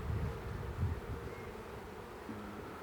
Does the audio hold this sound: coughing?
no